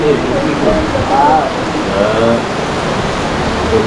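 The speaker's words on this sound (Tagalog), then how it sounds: "narinig nyo yung yan, thunderstorm" Heavy rain from an approaching thunderstorm outdoors, a loud, steady broadband wash of noise with faint voices and bird-like chirps mixed in.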